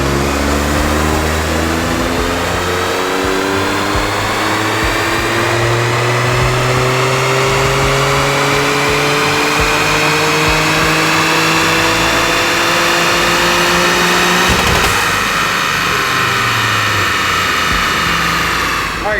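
A Toyota GR Corolla strapped to a dyno makes a baseline run, its engine roaring loud and close as it climbs steadily in pitch for about fifteen seconds before abruptly dropping off.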